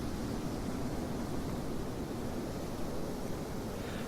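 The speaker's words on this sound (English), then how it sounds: "you more clearly now can hear the sounds of the ocean" Ocean waves washing up onto a sandy beach, a steady broadband roar of surf with no distinct breaks, close and fairly loud, with no voices.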